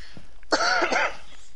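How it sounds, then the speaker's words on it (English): A single short, harsh cough to clear the throat, close and fairly loud, following a moment of quiet. "I've been coughing to clear my throat"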